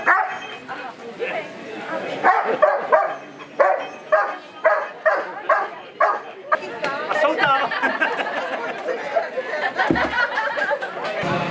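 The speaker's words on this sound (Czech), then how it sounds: "mohli všichni přítomní vidět ukázku práce záchranářského psa" A rescue dog barks in a steady series of loud, evenly spaced barks at a volunteer firefighters' anniversary demonstration, with crowd chatter and voices around it throughout.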